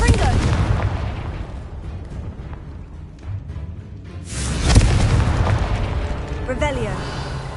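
Confringo fire spell blasts in Hogwarts Legacy on PS4 rumble as dense booming bursts over continuous game noise, with a sharp, louder explosion striking midway and a rolling roar after it.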